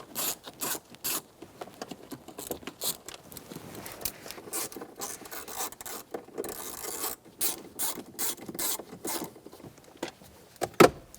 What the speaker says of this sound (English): Using a T15 bit, remove the 2 screws behind the glove box.